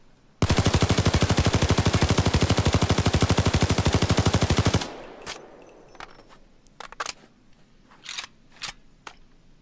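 An L85A2 assault rifle in Payday 2 fires one long, loud, rapid full-auto burst of about four seconds, followed by scattered single metallic clicks and handling clanks.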